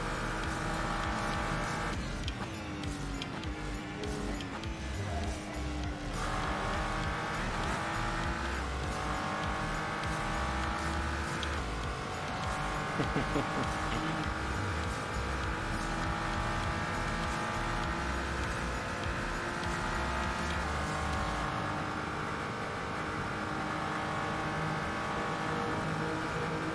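Engine of a 1970 Trans Am race car in Assetto Corsa during an offline Daytona endurance race, roaring steadily loud throughout, climbing and shifting through gears with repeated rising revs, with no talk.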